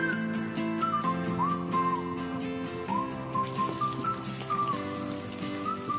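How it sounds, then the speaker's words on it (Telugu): Tempering of urad dal, chana dal, dried red chillies, cumin, curry leaves and garlic frying in oil for an ivy gourd coconut curry, a steady close crackling sizzle lasting throughout, with sustained melodic tones running underneath. "ఇలా పోపులన్నీ వేపుకోవాలండి."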